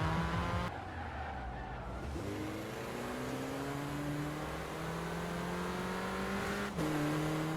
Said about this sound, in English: I still had enough torque to safely overtake, and the Megane just pushed forwards